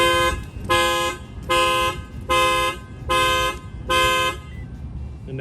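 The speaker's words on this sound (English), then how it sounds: "I'm going to go ahead and bang on the window and it will set off the alarm." A 2023 Lexus NX250 alarm, triggered by a shock sensor add-on after a bang on the window, blares loud repeating horn-like tones, about six evenly spaced pulses close by with no talking.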